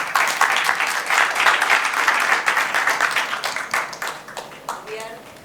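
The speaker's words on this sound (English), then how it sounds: "So thank you and a big round of applause to them." Audience applause for a climate crisis panel on sustainable agriculture, health and nutrition: dense, steady clapping from a crowd that fades toward the end, with some talk mixed in.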